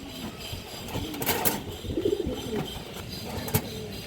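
Red pigeons at a market stall give low, repeated coos close by, with faint traffic and background noise around them.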